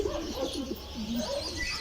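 Pigeons cooing close by, soft throaty rolling coos repeating in a relaxed rhythm over faint ambient noise.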